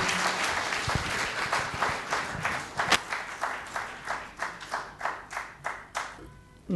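Audience applause at a book launch ceremony, a dense burst of many hands clapping that thins into a few rhythmic, fading claps before stopping.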